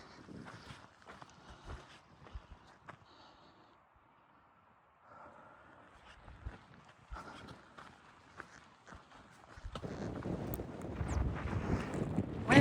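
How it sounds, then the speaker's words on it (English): Wind blows across an open mountain ridge on a hiking trail, a low, faint rumble against the microphone mixed with footsteps, swelling into a louder, steadier buffeting near the end. "Wind always seems to kick out these ridges"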